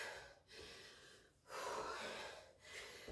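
Quiet, heavy breathing after a round of a sweaty home workout: three long, gasping breath cycles, close and unaccompanied by talk.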